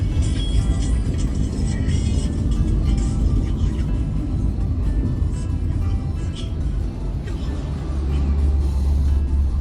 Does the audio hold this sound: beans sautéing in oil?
no